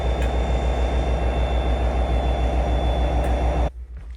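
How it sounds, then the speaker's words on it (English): A train engine idles with a steady low rumble and hum at a platform in Reading station during uncoupling, loud and close, then cuts off abruptly near the end. "you can see the guys here uncoupling the engine that was at the back of the train"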